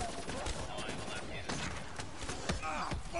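Rapid bursts of video game gunfire from Black Ops 3 zombies mode crackle through a busy, dense mix, with voices talking over the shots.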